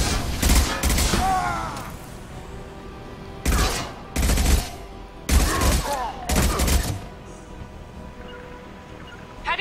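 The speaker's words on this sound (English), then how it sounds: "I'm technically shooting through a wall." Gunfire in Mass Effect 2 fired through a wall: heavy rattling volleys in several separate bursts with gaps between them, loud and close, a faint rumble in the background.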